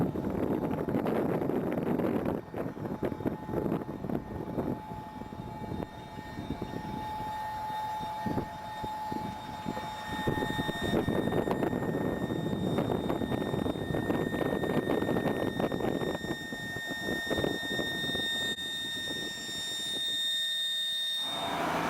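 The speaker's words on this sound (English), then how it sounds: "The first example is the audible alert going on." A ThermAlert audible alert sounds from a passing vehicle, a steady high tone running for long stretches over a broad rumble of traffic or engine noise, loud and near throughout.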